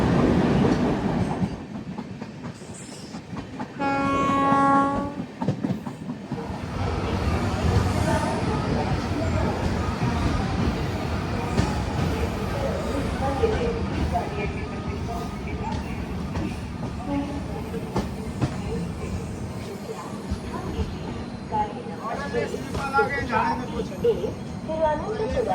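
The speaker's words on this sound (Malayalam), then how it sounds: "ടണലിൽ കൂടെ പോയിക്കൊണ്ടിരിക്കുകയാണ്" Rajdhani Express, the Trivandrum to Jammu service, rumbling through a long tunnel of about 5 to 6 kilometres, with a steady roar and clickety-clack of wheels on rail throughout and brief tonal squeals near the start.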